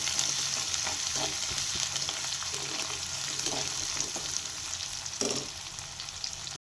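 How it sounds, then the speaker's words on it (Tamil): Shallots and crushed garlic sautéing in oil for a cabbage stir-fry, a steady close sizzle with occasional stirring scrapes under a low background hum, no talking. "அடுத்து சின்ன வெங்காயம் அடுத்து தட்டி வச்சுருக்க பூண்டு கொஞ்சம் வதக்கி விடணும்"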